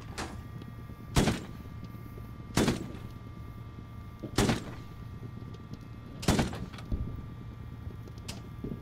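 Single heavy cannon shots, the 40 mm gun on a USMC amphibious vehicle in the game Squad, boom out five times at spaced intervals over a low steady engine hum, loud and close.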